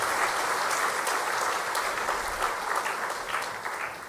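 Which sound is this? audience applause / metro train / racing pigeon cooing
audience applause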